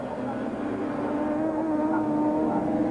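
Touring race cars lapping the Nurburgring in the 1994 German STW championship, a sustained loud engine drone with a steady pitch that rises slightly as the cars run past the curbing, holding strong for the whole stretch.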